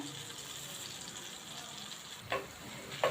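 Cumin seeds sizzle in hot oil and butter, a steady broadband frying hiss throughout with two brief brighter clinks of a utensil near the end.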